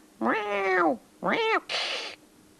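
A cat gives two drawn-out meows, followed by a short breathy hiss or spit, all close and clear with brief pauses between.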